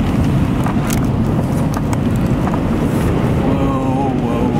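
Strong gusts during an Oregon–Washington windstorm among trees make a loud, continuous rushing roar with buffeting noise throughout, and people talk under it.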